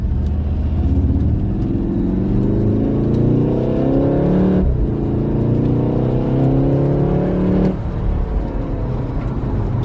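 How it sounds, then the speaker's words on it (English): A 2018 Volkswagen Golf R Mk7.5 engine revs up with rising pitch, drops briefly, then climbs again in a second loud acceleration, close and without talk. "So listen to the engine on this one."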